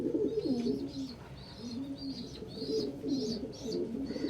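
A pet pigeon coos repeatedly at close range indoors, giving rhythmic low rolling calls over a soft background hum.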